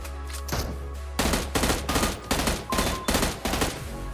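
M16 gunfire in the PUBG Mobile video game, a series of sharp, loud shots in quick bursts and single reports, close and up front with no talking.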